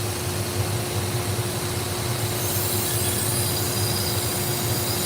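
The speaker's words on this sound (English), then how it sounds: "I got the fans on, and I also have the dust collection system on" Workshop fans and a dust collection system in a knife sharpening shop run together as a constant, even whooshing hum with a steady drone underneath, no other sounds standing out.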